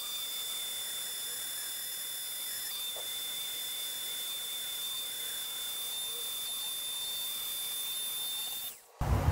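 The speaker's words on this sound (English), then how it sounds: "I'm going to go ahead and get the Dremel set up and put in a diamond bit." Small Dremel rotary tool fitted with a cylinder diamond burr grinding around an avocado seed, a steady high-pitched whine that runs continuously at close range before cutting off abruptly near the end.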